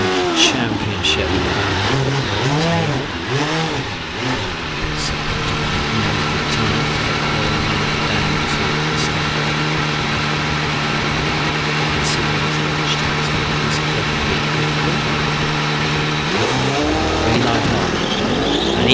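A hillclimb race car with a 4-litre Judd engine launches at a British Hillclimb Championship event, a loud sustained engine drone with rising and falling revs, heard under continuous commentary.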